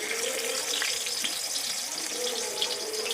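Fish frying in hot oil with turmeric, a dense steady sizzle heard up close and continuing evenly throughout without pauses.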